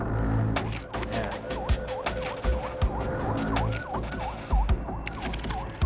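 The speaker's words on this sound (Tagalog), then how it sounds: "Ayan yung ambulansya na tinawag natin." An ambulance siren wails in rapid repeating sweeps as it arrives at a head-on collision scene on the Marilaque highway, loud and close, with traffic noise and occasional knocks underneath.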